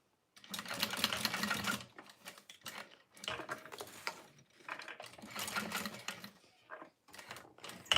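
A sewing machine stitches a fold-over bag in several bursts, each a loud rapid whirring run a second or two long, separated by brief pauses.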